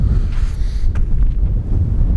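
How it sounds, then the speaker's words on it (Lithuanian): Wind blows outdoors on a chilly morning, buffeting the microphone with continuous low rumbling gusts and a rushing wash of noise, close and steady throughout, with no talking. "Vėjukas yra"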